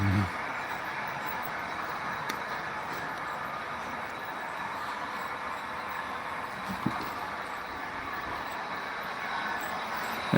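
A model coal train runs on a layout track of the Union Pacific Evanston Subdivision, giving a steady, continuous rumble and rolling hum at moderate level throughout with a faint click or two and no clear talk.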